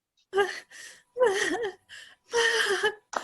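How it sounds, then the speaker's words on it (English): Woman breathing very hard in a hotel, a sequence of loud, close, strained gasps and heaving breaths in uneven bursts separated by short pauses. "She seems to be breathing very hard."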